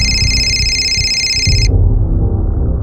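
A telephone rings with a bright electronic trill that stops partway through, over a low murmur of background room noise.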